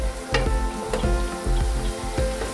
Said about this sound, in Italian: Fate rosolare per bene